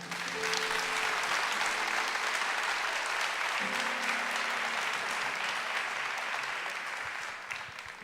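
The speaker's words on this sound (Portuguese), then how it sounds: "Aplauda Jesus." A church congregation applauds steadily for about eight seconds during a Catholic preaching service, a dense, sustained wash of clapping with a few brief held voices or tones rising above it before it fades slightly at the end.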